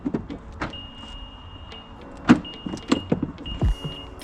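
A small Fiat-built car's electrically operated fuel filler cap mechanism whirs and clicks in several short bursts, with a few sharp clunks and a faint beeping tone running through, close and fairly quiet.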